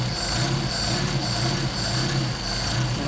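A cold Mercedes 190SL engine idles on Solex 44PHH carburetors, a steady, loud, close rumble with a faintly pulsing low beat and constant mechanical hum throughout, no voices.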